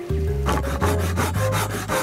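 A handsaw cuts through a wooden mölkky throwing stick at the 22.5 cm mark, steady back-and-forth rasping strokes in a quick even rhythm, close and loud with no talking.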